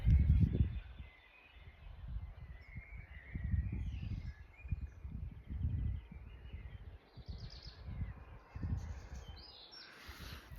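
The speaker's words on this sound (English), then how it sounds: "You can hear, I thought I heard some cows maybe, the birds, the wind" Wind rumbles and gusts steadily outdoors on a Swiss mountain trail while small birds chirp faintly in the distance.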